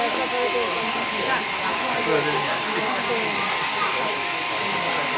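Electric shears buzz steadily through a sheep's short wool during a shearing demonstration, a loud, continuous motor hum that holds throughout.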